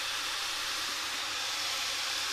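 Garlic sizzles in a hot pan while browning for a goulash, a steady close frying hiss with no pauses.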